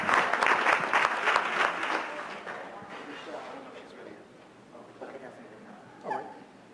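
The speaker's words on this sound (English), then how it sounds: "How about a round of applause?" Meeting audience at a statewide roundtable bursts into loud applause that thins out and fades over several seconds, with murmuring voices underneath and a brief clap near the end.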